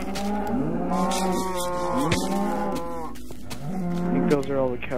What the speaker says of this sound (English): cows I see.